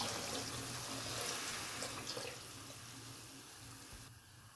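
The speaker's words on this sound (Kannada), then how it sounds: "ಈಗ ಒಂಚೂರು ನೀರು ಹಾಕೊಳ್ಳೋಣ." Water splashes and gurgles as it is poured into a cooking pan of vegetable upma base with tomato, a soft continuous pour that tapers off near the end.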